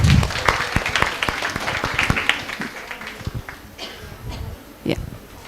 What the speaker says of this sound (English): Claps, girls, claps.